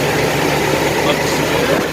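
A 2008 Toyota Tundra with the 5.7L V8 idling just after an oil change with Amsoil, a steady, loud, close engine hum with no change in pitch.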